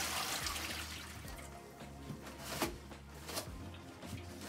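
Water splashing and sloshing as a washcloth is rinsed in a basin during a bed bath, with a steady wet wash punctuated by a couple of louder splashes, close by, with no talking.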